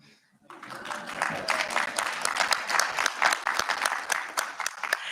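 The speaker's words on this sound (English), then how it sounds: "Feel free to applaud." Applause breaks out at a community bond committee meeting for parks and recreation, starting abruptly after a moment of quiet and continuing as scattered, moderately loud clapping from a small group, with no talking over it.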